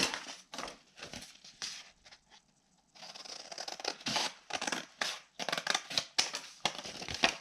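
Scissors cutting paper up to a score mark for a handmade ephemera wallet, a run of crisp, close snips and rustles in quick bursts with a short pause partway through, no talk.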